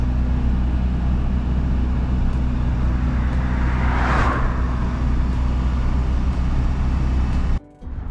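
Car driving through the village of Dingle in Ireland, a steady loud engine and road rumble heard from inside the car, with a short passing swell midway and no talk.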